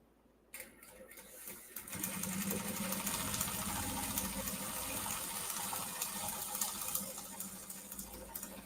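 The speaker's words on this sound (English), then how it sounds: "I'm just stitching from one side to the other." Sewing machine running steadily while stitching a large fabric project holder, a continuous close whirring hum that starts after a brief quiet lead-in and carries on without pause.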